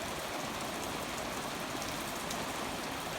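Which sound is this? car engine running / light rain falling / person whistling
light rain falling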